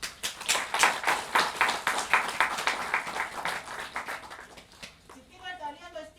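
An audience at an anniversary function claps together in a steady, fairly loud round of applause that tapers off toward the end.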